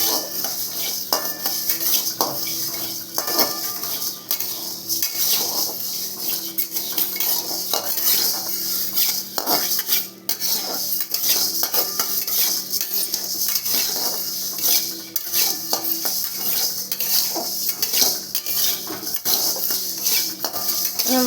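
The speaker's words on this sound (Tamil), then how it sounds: "வறுத்துடலாம்." Idli podi ingredients dry-roast in a pan while a utensil stirs and scrapes them, giving steady, close metallic clinks and scratches over a faint sizzle with no talking.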